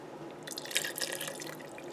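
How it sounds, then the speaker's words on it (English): Water splashes and trickles briefly into a cooking pot, a short soft pour with a few drips, fairly quiet. "I'm going to add a little bit of water."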